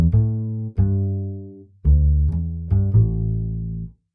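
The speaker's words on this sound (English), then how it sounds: "you'll see that this brings up our upright bass" A Logic Pro Studio Bass upright bass on the Upright Clean preset plays a few deep plucked notes, each with a rounded attack and a long, fading woody resonance, heard alone.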